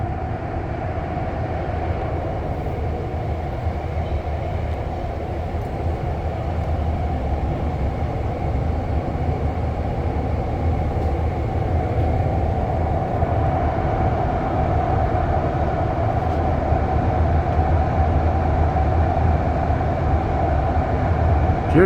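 A REM light rail train running near Central Station, a loud, continuous rumble with steady rail and motor noise that swells slightly over about twenty seconds.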